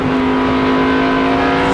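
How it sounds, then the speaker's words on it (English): A race car engine at the 2004 Checker Auto Parts 500 roars at high revs, a loud steady whine that swells slightly as the throttle is held open. "Listening to how they work the throttle"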